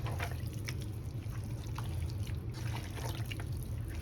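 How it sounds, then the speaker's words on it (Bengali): Hands mixing beef pieces with ground spices and dried chilli powder, giving a steady wet squelching and sloshing close by, continuous for a few seconds with scattered small drips and splats. "এখন সব হাত দিয়ে মেখে নেব ভালোভাবে"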